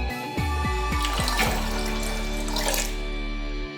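Water pours from a tap over washed rice in a pressure cooker, a steady loud gushing stream with a few splashing pulses at the start, no voices.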